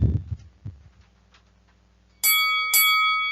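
A notification bell sound effect: a few soft thumps, then two bright, loud bell rings in quick succession, each sustained and ringing out.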